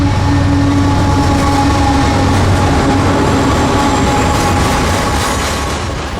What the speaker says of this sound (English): M452 is daily manifest freight out of Miami's Hialeah Yard for Waycross